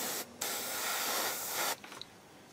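One long, steady hiss of aerosol spray paint onto a 1/32 scale T-800 endoskeleton model kit, lasting over a second, close and fairly loud, followed by a few faint clicks.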